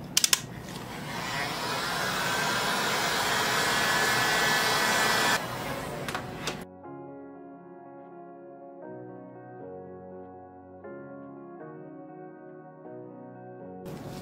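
A heat tool blows hot air over craft resin in a loud, steady broadband rush for about six seconds, then cuts off abruptly and soft music follows.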